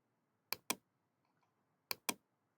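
Typing gpedit.msc on a computer keyboard produces only a few crisp keystrokes, heard as two quick pairs of close, sharp clicks separated by a brief pause in an otherwise quiet room.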